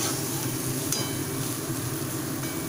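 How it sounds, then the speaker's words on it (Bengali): Food frying in a pan on the stove gives off a steady, dense sizzle that stays at an even loudness throughout, with one small clink partway through. "এবার ভালোভাবে ফ্রাই করে নেব।"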